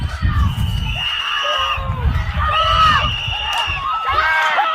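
A crowd shouts and yells in repeated loud bursts during an altercation with agents, excited voices overlapping close by.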